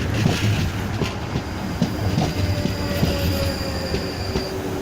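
A train speeds through Clapham Junction, its wheels squealing and clattering steadily over the rails, loud and close, with a continuous rumble throughout.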